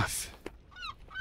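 A bird in a climbing video game honks like a goose, giving several short, fairly faint calls over background noise.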